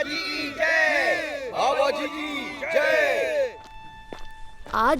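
A cartoon crowd of devotees cheers and chants in unison, with rising and falling shouted calls repeated several times, followed by a brief pause and a final burst.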